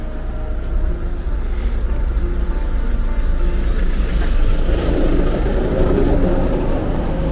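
A car rolling through a narrow back alley in Perugia, Italy, a low steady engine rumble that swells slightly as it passes close by.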